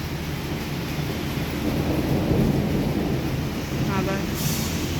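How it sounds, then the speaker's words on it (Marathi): Heavy monsoon-style downpour with hail and thunder, a dense steady roar of rain close by that swells slightly midway, with low rumbling underneath and a faint voice in the background. "आमच्याकडे पाऊस पहा, कसला पाऊस आहे, डेंजर"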